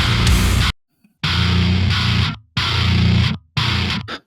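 Heavily distorted bass tracks, doubling the main pitched guitar parts, play in loud, thick bursts separated by abrupt silent gaps, with no one talking over them.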